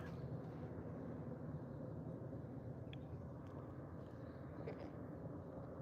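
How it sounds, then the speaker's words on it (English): Steady low rumble of an airplane passing overhead on its approach path to land, a constant broadband roar filling the whole stretch with no talk over it. "So all the flights coming in go right over top"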